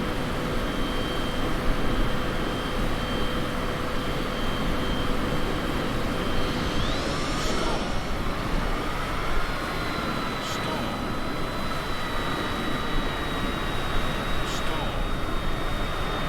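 Steady drone of an airplane engine in a realistic flight video game, a continuous broad roar with faint whining tones that shift midway, under occasional quiet talk.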